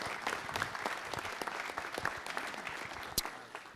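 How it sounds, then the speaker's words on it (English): An audience at a Las Vegas city council meeting gives first responders a round of applause. The clapping is steady and moderately distant, dense with overlapping claps. "So give them a nice round of applause for doing that for us."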